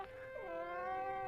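A cat named Mushi, a tom, lets out a single drawn-out meow that bends down in pitch and then holds steady, clear and close with no talking over it.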